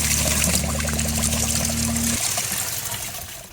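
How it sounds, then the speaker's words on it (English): A spring overflows after Hurricane Helene at a campground, with water pouring out in a steady, loud, close rush. A low mechanical hum underneath cuts out partway through, and the splashing flow continues alone. "So much water is coming out like faster than it could go in."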